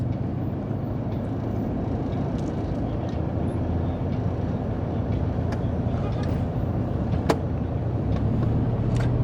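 Steady road traffic noise of cars and motorbikes passing on a city street, a continuous rumble with occasional louder passes, near and constant throughout.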